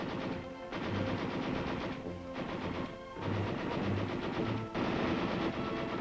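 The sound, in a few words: light machine gun firing in bursts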